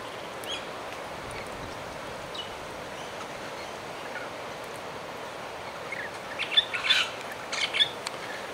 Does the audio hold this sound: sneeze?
no